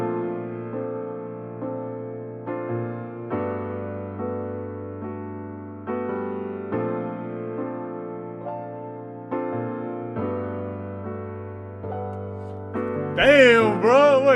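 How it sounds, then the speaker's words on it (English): A piano chord sample for a beat rolls through slow, sustained chord changes with soft swells, closing on a brief bright, warbling flourish, heard alone without talking. "The next instrument that I added was this piano."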